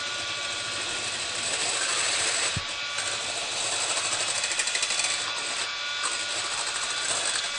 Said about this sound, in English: We're going to mix up all our stuff. All your ingredients for the pie. Really mix it up good.